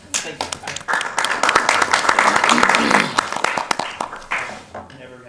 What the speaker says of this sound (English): Gotten applause for drawing the short straw